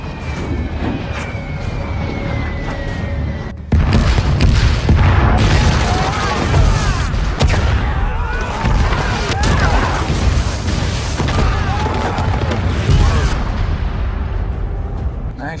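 Bomb blasts from the war film 12 Strong: deep, rumbling booms and a sustained roar of explosions with layered debris and cracks, loud and dense, under a film soundtrack.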